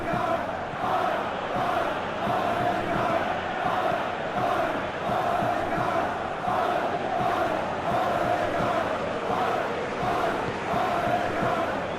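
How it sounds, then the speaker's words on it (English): Football stadium crowd at a Sevilla versus Wolfsburg match, a dense rolling roar of chanting that pulses in a steady rhythm throughout, distant and sustained with no clear commentary over it. "The crowd are calling for this to be put to bed."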